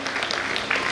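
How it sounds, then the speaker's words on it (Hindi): Dense audience applause at a tribute event, a continuous wash of many hands clapping with no gaps. "जोरदार तालियां इनके लिए।"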